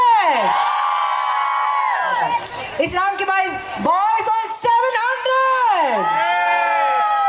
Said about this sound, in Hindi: I want the girls to make some noise.